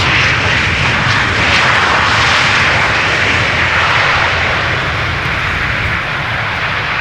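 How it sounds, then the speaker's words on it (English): A Transavia airliner lands at Amsterdam Schiphol Airport on a sunny day, its jet engines producing a loud, continuous broadband roar throughout, steady and close overhead. "Transavia is landing over here"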